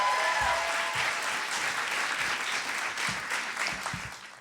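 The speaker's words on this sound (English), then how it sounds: "will you please give a warm round of applause to Lucas Warford?" An audience at a live storytelling show gives sustained applause, a dense, steady clapping from a crowd that holds for several seconds and then starts to fade.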